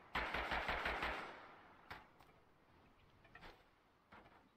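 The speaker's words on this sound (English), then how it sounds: "Somebody else is shooting at me." Gunfire in the video game Totally Accurate Battlegrounds: a rapid automatic burst opens the clip, followed by a few scattered single shots, fairly quiet overall.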